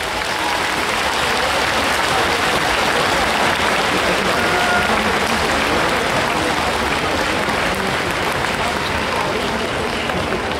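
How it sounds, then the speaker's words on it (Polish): Dense, steady applause from a large audience at an outdoor town-festival concert in Czarnków, sustained and loud throughout without letting up. "to bardzo państwa proszę o duże, gorące brawa dla wszystkich tych ludzi walczących dzisiaj z powodzią."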